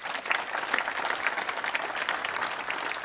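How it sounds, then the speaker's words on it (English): Applause from the audience at a hacker conference talk, a dense, continuous round of many hands clapping at moderate volume, steady from start to finish. "So give them a round of applause,"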